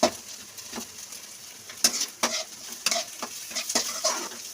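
Onions fry and sizzle in a pan while a utensil stirs them, giving repeated scraping clinks at an irregular pace over a steady, soft sizzle.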